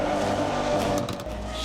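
V12-powered car in the No Hesi driving game, a steady sustained engine drone throughout, slightly easing off near the end with a brief change in tone, no talk over it.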